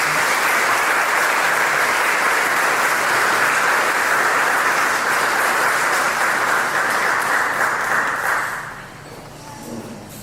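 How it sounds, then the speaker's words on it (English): Sustained, dense applause from a large crowd, steady and loud for several seconds before fading down near the end. "another round of applause."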